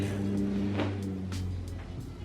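A loud car passes outside, its engine a broad low roar that swells and fades over a couple of seconds, heard from indoors.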